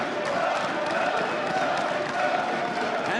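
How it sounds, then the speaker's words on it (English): Crowd cheering and roaring at an IEM Sao Paulo esports semifinal, paiN Gaming versus OceloteWorld, a dense sustained wall of voices with scattered shouts, steady and fairly distant, with a commentator's voice mixed in. "And the crowd goes wild."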